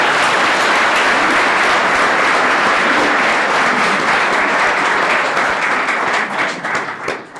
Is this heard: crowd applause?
yes